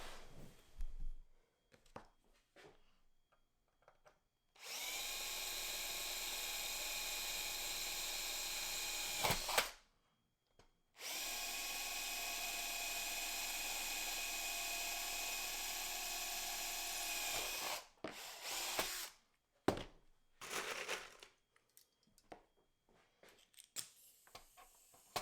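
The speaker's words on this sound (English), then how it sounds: "I just didn't want to start drilling any holes until I was absolutely sure" Two long bursts of a high-pitched power drill spinning steadily while drilling holes in an RV-10 aircraft build, separated by short pauses, followed by brief clicks and handling noises.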